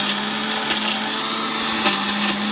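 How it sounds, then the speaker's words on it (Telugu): A mixer grinder whirs steadily as it blends green chillies with thick curd and water, a constant motor drone with a sustained hum, running alone and close at moderate loudness. "కూసిన నీళ్ళు వేసి మెత్తగా మిక్సీలో రుబ్బేసుకోండి"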